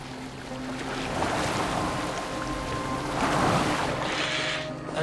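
In Assassin's Creed Valhalla, a boat sails across open water, with a continuous rushing wash of waves against the hull and some wind. The sound swells louder in a couple of surges and carries no voices.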